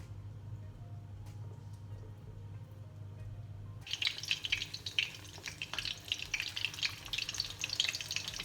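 Tempura-battered basa fillet dropped into hot oil in a frying pan. After a quiet stretch of low hum, a loud, bright crackling sizzle bursts in partway through and keeps popping steadily, close up.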